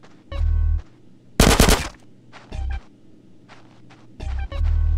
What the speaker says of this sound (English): Give me some fucking covering fire!